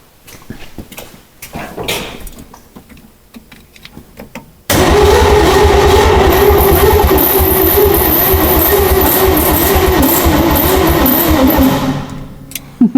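A starter cranks the engine of an abandoned Ford F100 truck with a Chevy engine swap, one plug pulled and ether sprayed in, grinding loudly and steadily for about eight seconds without firing, after quieter shuffling sounds.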